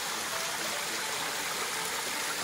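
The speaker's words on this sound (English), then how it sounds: "It's a mini waterfall, so we have to walk across there." A mini waterfall on a forest hiking trail at Lata Medang near Kuala Kubu Bharu pours in a steady, broad rushing hiss, close and continuous with no voices.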